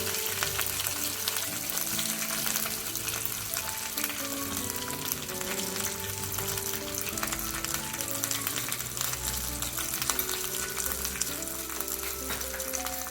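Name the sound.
roasting gram flour (besan) in a pan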